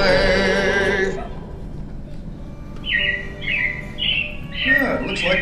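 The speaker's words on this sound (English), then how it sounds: "it looks like the Robins are getting ready to celebrate Valentine's Day today" Robin chirps at the Carousel of Progress attraction, a few short bright tweets in quick clusters following a fading musical passage, fairly close and clear.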